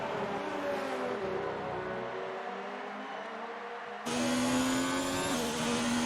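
Racing-game cars on the final lap of the Japanese Grand Prix at Suzuka International Circuit, engines droning and shifting pitch as cars pass, then a sudden louder, nearer engine whine taking over midway, no voices.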